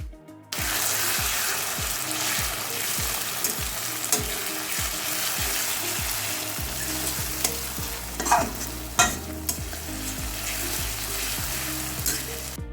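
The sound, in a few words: stirring fried onions with green chilli paste in a pan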